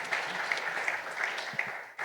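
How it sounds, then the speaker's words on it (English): A conference audience at a leaders summit gives a short round of applause, a steady even spread of clapping with a few crisp individual claps standing out, moderately distant and fading at the end. "A round of applause for Shemek."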